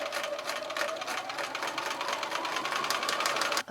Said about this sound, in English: I'll continue sewing these sections together till I get to the end.